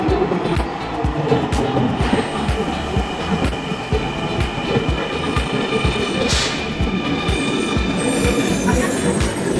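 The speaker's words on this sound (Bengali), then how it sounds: "ট্রেন মনে চলে আসতেছে আমাদের।" A Dhaka metro train pulls into a station, with rapid rhythmic wheel clatter and a hissing rush holding loud and steady throughout, with faint background voices.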